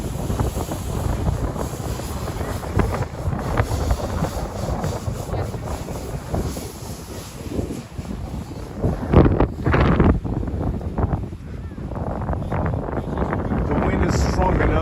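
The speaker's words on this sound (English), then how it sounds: "The wind is strong enough to lean the tree. I see how it's all shaking." Strong wind outdoors shaking a Christmas tree on a city street in winter, a loud, continuous gusting roar with heavy buffeting against the microphone that briefly surges and then settles.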